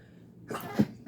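A single sharp sneeze or cough-like burst from one person, close and abrupt, with a brief breathy follow-up after a quiet lead-in.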